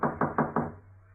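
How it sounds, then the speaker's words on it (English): Four firm, evenly spaced knocks on a door in a period radio crime drama, close and resonant, falling silent right after. "Who knocks?"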